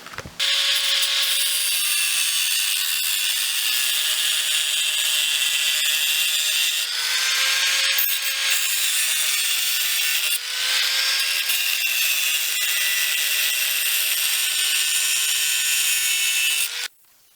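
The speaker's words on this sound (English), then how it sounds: "So we'll drill a plug weld in this as well" A power drill bores plug weld holes in a car steering arm during a rack-and-pinion bump steer fix, producing a loud, steady, high motor whine whose pitch dips briefly under load and then stops.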